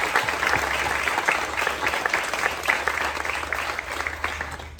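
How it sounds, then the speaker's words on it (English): An indoor audience at an annual meeting applauds the director and his staff, a steady, even patter of many hands clapping for a few seconds with no voices over it. "can I please get a round of applause for Director Trevor Beauregard, who's sitting in the back, and all of his staff"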